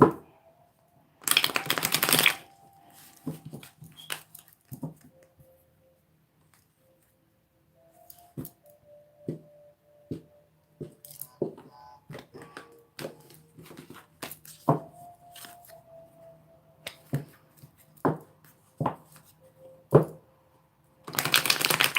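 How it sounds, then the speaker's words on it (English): Tarot cards are riffled and shuffled in several bursts, with crisp fluttering rushes and scattered taps and snaps between quiet pauses. "Do another shuffle,"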